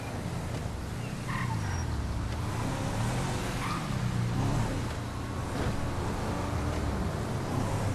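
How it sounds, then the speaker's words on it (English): A car in the LSPDFR police video game races up and then brakes hard during a speed enforcement patrol, with engine roar swelling and fading over a continuous road-traffic rumble, fairly close, no talking. "that car just came flying up and hit the brakes pretty hard to keep from hitting a car in front of him"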